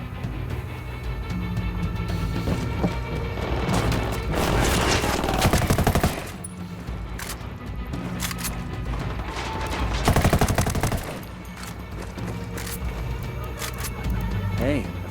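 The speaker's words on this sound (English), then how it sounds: "Opening fire on these fuckers." Gunfire in the shooter game Ghost Recon Wildlands: sustained bursts of automatic fire with heavier volleys in two stretches, mixed with game ambience and a voice talking over it.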